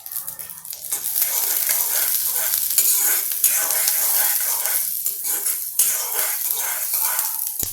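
Mixed vegetables, capsicum, cauliflower and carrot, being stir-fried on full gas for vegetable fried rice, giving a loud, steady close sizzle with scraping stirs and occasional clinks of a pan throughout.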